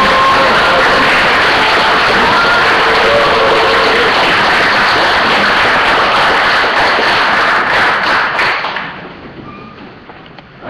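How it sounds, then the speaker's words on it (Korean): A seated audience gives sustained, loud applause welcoming a lawyer at a gathering, dense clapping that holds steady for several seconds before tapering off at the end. "법정 투쟁을 이끌고 계시는 우리 김칠준 변호사님을 큰 박수로 모시겠습니다."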